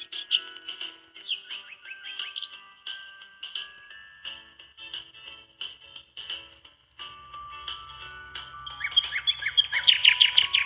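Birds chirp in the video game Adopt Me, with quick high tweets repeating in irregular bursts that thicken into a busy chorus near the end, moderately loud over faint background sound.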